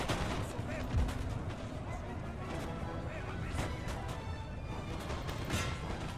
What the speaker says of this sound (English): We're getting the canister fire.